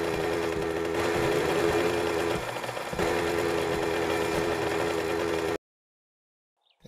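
A minibike engine in 7 Days to Die runs steadily at a buzzy, droning idle for about five and a half seconds, with a brief dip in the middle, then cuts off abruptly into silence.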